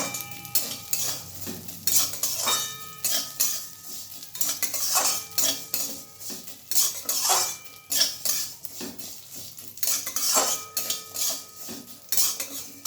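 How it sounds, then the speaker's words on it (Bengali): Vermicelli is stirred in a pan with crushed cardamom, cashews and raisins. A spoon scrapes and clinks against the metal in an irregular run of strokes under a low sizzle, with no talking. "এভাবে হালকাভাবে নাড়াচাড়া করতে হবে।"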